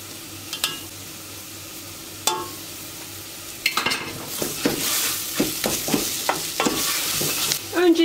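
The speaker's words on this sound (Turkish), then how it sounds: "Şöyle karıştırıyorum." Mint and garlic are stirred in a pot while cooking soup, with a few isolated clinks, then a busier run of scraping spoon strokes over a soft sizzling background.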